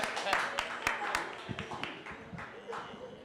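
Scattered applause from a small audience at a tech panel discussion: a few sharp, uneven claps at first that thin out as people keep talking over them.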